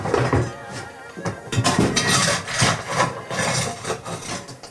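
Coal crumbles and trickles through the grate of a home stove, a continuous gritty rustling and scraping with uneven pulses, close and fairly loud.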